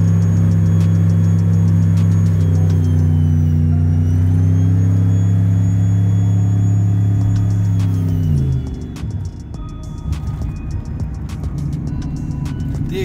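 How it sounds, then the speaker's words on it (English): A loud, sustained whine from an LSX turbo V8 in a 2500 pickup hauling a 15,000-pound trailer, the tone steady under load and then dropping away as the throttle lifts. "You just hear a ton of turbo noise."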